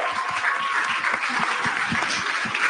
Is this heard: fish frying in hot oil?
no